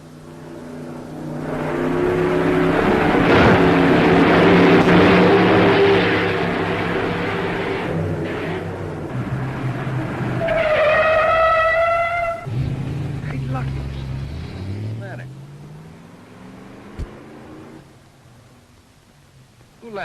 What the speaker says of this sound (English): Look, Joe, take that jalopy there and run it over the bumps.